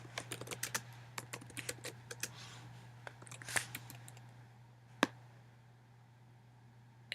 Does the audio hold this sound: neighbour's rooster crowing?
no